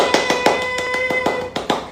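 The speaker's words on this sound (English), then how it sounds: "give yourself a round of applause" A few people clap at a self-improvement talk, producing sparse, sharp individual hand claps that fall in an uneven rhythm, close and fairly loud, with a steady hum underneath.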